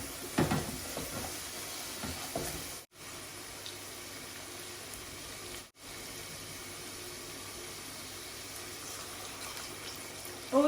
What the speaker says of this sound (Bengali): একটু জল দিলাম।